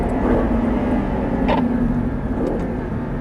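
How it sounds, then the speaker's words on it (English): An Audi R8 accelerates hard down the straight toward turn 11 at Sonoma Raceway, heard from inside as a loud constant engine drone and road rumble. "Hard on the gas down the straightaway as we approach turn 11."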